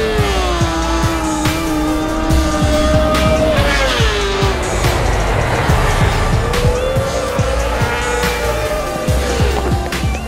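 Honda Fireblade SP superbike practicing race starts, its engine revving hard with rising and falling pitch and a loud continuous roar close by, punctuated by sharp bursts throughout, no talking.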